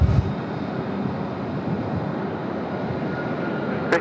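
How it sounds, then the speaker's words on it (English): A China Southern Airbus A330-300 jet on arrival at Sydney Airport, a loud continuous broadband engine roar that holds steady throughout with no talking. "There's China Southern inbound from Shenzhen, A330 300 series."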